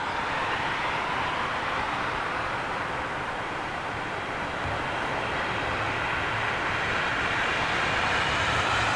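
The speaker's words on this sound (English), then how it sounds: "Or is that the Japan Airlines going out now?" A Japan Airlines jet departing Heathrow produces a steady, loud, broadband engine roar that holds constant throughout with no breaks.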